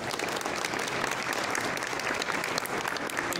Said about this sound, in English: please give a large round of applause